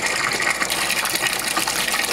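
An aquaponic system's water pump gushes aerated water into a tank meant for goldfish, a steady close, hissing rush of churning bubbles with no talk.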